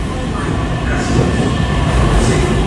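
A RapidKL LRT train, a CRRC Zhuzhou AMY light rail vehicle, rumbles into a station platform with a steady low roar that swells slightly. A public-address voice speaks over it.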